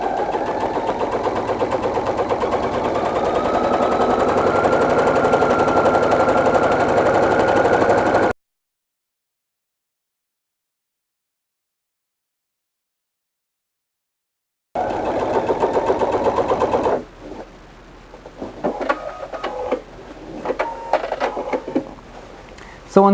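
A sewing machine stitches seams on quilted velvet for a Christmas tree skirt, a steady whirring run, then a long silence, then shorter bursts of stitching with pauses.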